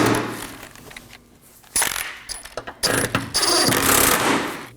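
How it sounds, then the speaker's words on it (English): Two 15mm bracket bolts on the rear engine torque strut mount of a 2018-2024 Chevrolet Equinox 1.5L being snugged down with a ratchet, giving bursts of clicking and metallic clatter at close range, no talk. "two 15mm bracket bolts. Now I'm just going to snug them down."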